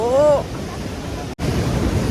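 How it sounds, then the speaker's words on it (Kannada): Big sea waves churning at a beach during rain, a broad steady roar of surf close by, with a brief voice-like tone at the start and a momentary dropout midway. "ಮಳೆಗೆ ನೀರಿನ ಅಲೆ ಜಾಸ್ತಿ ಇದೆ"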